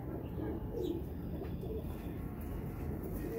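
Medium-sized male pigeons coo in a low, soft, continuous murmur over a steady dense background, with no talking.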